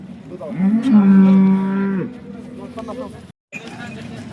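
A cow lets out one loud, drawn-out moo close by at the Sangola cattle market in Maharashtra, followed by quieter crowd murmur and brief voices in the background.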